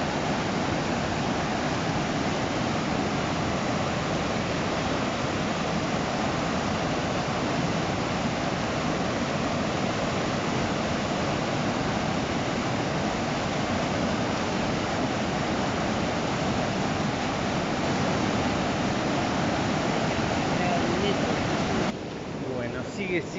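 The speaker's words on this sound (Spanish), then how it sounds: "Impresionante cómo corre el río." A flooded river rushes past at La Higuera in Córdoba, a broad, unbroken roar of churning water that stays loud and steady throughout, with no voices over it.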